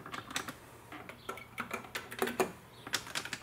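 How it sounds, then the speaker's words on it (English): Buttons on a Mayflash F300 arcade joystick clicking under repeated presses, a close, crisp series of irregular taps with short pauses, and no voices. "Clicky. Let's see the buttons."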